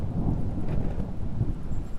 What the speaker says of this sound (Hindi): बादलों की गड़गड़ाहट ने स्वागत किया।